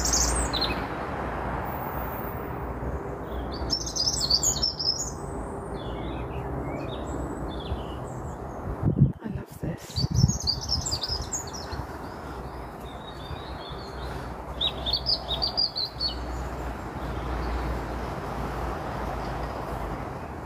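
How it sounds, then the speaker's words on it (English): A songbird calls outdoors in Hampshire near Portsmouth, its high chirps and twitters recurring in short bursts over a steady low background rumble, moderately distant, with a brief handling knock midway. "Can you hear that bird?"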